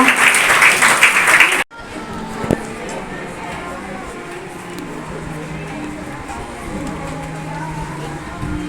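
A crowd claps loudly for a school headmaster at a district-level karate competition. The burst is brief, then cuts abruptly to a quiet room with faint background murmur and an occasional knock.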